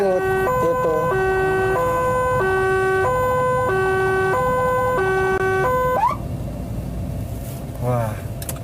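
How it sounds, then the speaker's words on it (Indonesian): A loud Indonesian ambulance siren alternates between two pitches in a steady high-low pattern, then cuts off and a brief rising whoop follows amid traffic noise. "suara ambulan yang sesuai undang-undang yang seperti itu tadi tuh? Seperti itu, suara high low"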